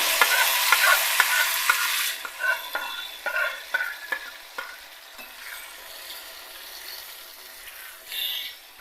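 A spoon stirs freshly pounded cucumber chutney in a pan, making a busy run of scraping knocks over a steady hiss of heat, loudest at the start and easing off toward the end.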